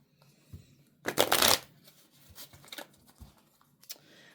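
Tarot cards riffled and shuffled by hand, a loud burst of papery flutter in the middle with softer card taps and slides before and after, no voices.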